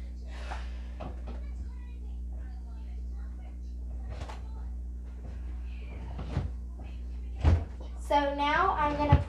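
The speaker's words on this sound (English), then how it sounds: "So now I'm gonna push in all my drawers." Bedroom drawers are pushed shut one after another, a series of soft knocks and thumps scattered among quiet room noise, ending with a brief burst of a higher voice.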